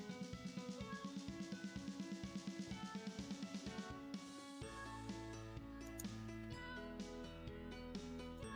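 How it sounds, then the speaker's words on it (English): A song plays quietly with a pulsing rhythm, then shifts to sustained tones. Cat meows are mixed faintly into the background of the music. "There's definitely meows in the background of this song in particular."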